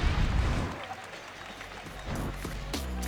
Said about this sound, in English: Getting some oohs and ahs from this crowd.